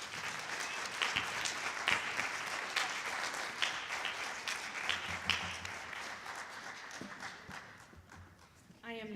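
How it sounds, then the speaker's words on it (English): Audience applause for students at a high school fine arts night, a sustained wash of many hands clapping in a large room, with scattered louder claps and some voices mixed in before it thins at the end. "Another round of applause for them."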